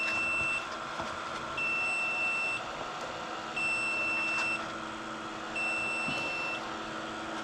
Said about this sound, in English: That beeping is telling us that the temperature is low, so it's a warning.